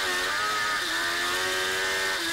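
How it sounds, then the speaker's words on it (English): A high-pitched British F1 racing sidecar engine revs steadily and close, its tone wavering up and down as the rear wheel spins without grip. "You'll hear the engine spinning and spinning as it gets rear wheel slippage."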